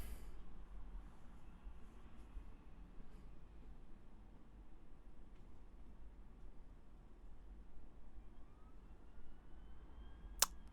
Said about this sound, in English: Every single damn stream is always a police car going past.